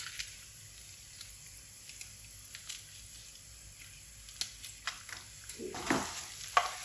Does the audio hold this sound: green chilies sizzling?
yes